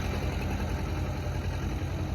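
A heavy tractor engine rumbles steadily at a constant idle during a tractor pulling contest on soil, a loud continuous low drone with no breaks or voices.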